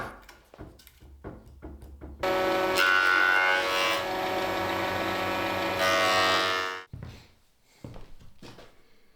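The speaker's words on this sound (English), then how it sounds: "After that, I am removing the ugly layer of wood." Rough, weathered outer layer being machined off squared wood boards in a woodworking shop, a loud steady rasping roar lasting several seconds after a few knocks and handling thumps, then quieter handling sounds.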